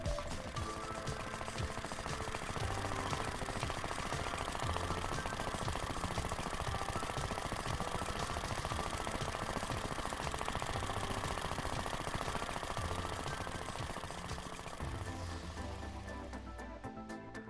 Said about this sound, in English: With permission from Mr. Ryder, I can show how this little engine runs and sounds.